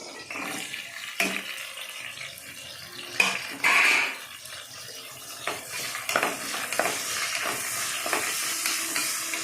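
Onion and green chillies fry in a pan, giving a steady soft sizzle broken by scraping stir strokes and clatter, with one louder burst of hissing partway through.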